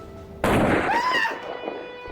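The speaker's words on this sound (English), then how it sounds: "He shot the flag down" A gunshot from a movie scene in which a flag is shot down: one sharp, loud blast that ends abruptly, followed by a decaying ring and some faint clutter.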